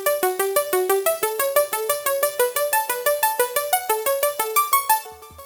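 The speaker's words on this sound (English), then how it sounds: "These 2 plucks together now sound like this." Two layered synth plucks play a fast, bright digicore melody together, with short, crisp repeated notes stepping up and down in a steady rhythm, loud and close with no voices.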